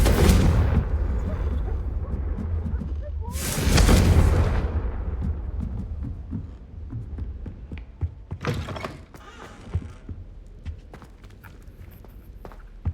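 Blasting-curse explosions in the Hogwarts Legacy video game: a loud broadband blast at the start, a second heavy burst around four seconds and a sharp later one, with footsteps and clatter between them.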